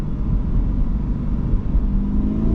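A new C8 Corvette's engine roars during daily driving, a loud, steady low-pitched exhaust rumble held close and continuous without climbing to redline.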